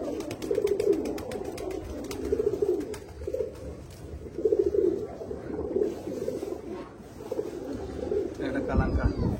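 Andhra bloodline pigeons coo in repeated low, throaty rolling phrases close to the microphone, with other birds faintly in the background and a brief thump at the end.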